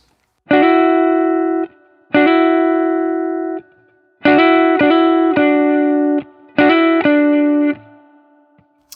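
Sustained two-note chords on an Epiphone Sheraton II Pro electric guitar picked several times, some followed by rapid hammer-ons on the third string from D, ringing clearly in a quiet room.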